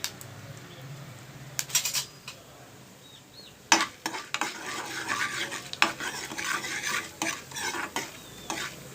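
Mustard seeds, cumin and lentils frying in hot oil in a kadai, a steady close sizzle with scattered sharp pops and crackles that thicken into a busier crackle partway through.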